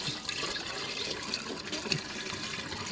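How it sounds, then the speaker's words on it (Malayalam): Water is poured into the windshield washer tank of a Ford, making a steady close trickling and splashing fill sound that runs continuously with small bright splashes. "അപ്പോൾ നമ്മൾ ജസ്റ്റ് വെള്ളം ഒഴിച്ച് കൊടുക്കുകയാണ്"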